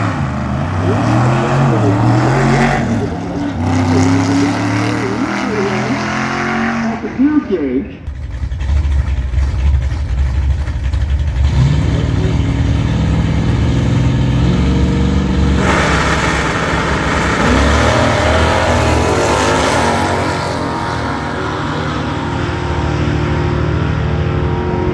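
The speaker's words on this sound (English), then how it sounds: "one of the things that happens a lot is some drag racing" Drag racing cars at the No Name Nationals accelerating hard with loud, sustained engine roar and rising revs, crowd and talk mixed beneath throughout.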